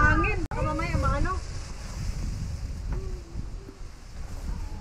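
Wind blows outdoors at a property in Canada, a steady broadband rush with rumbling microphone buffeting, while a person speaks briefly at the start and later makes a few soft vocal sounds.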